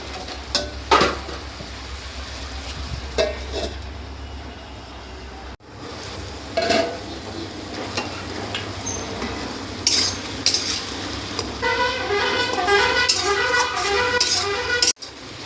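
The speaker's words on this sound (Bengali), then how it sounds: "একটু নাড়ানাড়ি করে দেবো।" Vegetables being stirred and fried in a pan that then gets covered, with scraping spoon clinks and a steady sizzle, plus a couple of sharp knocks of utensil or lid.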